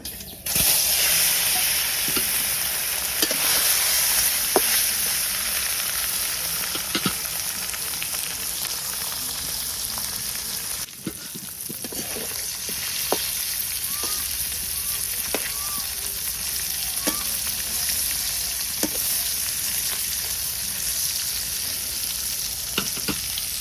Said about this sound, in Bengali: মাছ ভাজি করবো তেল তাপে গেছে গা মাছ দিয়ে দিই